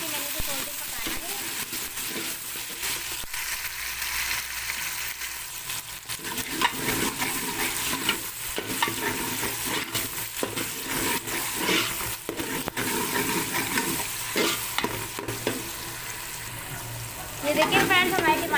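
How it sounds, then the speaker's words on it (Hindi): Tomatoes cook with onions in a pan for moong dal, giving a continuous low frying sizzle with occasional stirring scrapes, while someone talks over it at times. "टमाटर ऐड करके मैंने इसे थोड़ी देर पकाना है"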